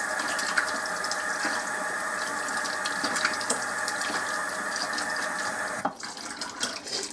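Water from boiled red potatoes for hash browns draining steadily into a sink, a continuous rushing splash that cuts off near the end, leaving faint drips and clatter.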